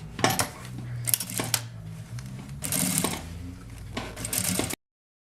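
A sewing machine stitches the edge of a fabric slipper in close, loud bursts of rapid mechanical chatter, pausing briefly between runs before cutting off abruptly.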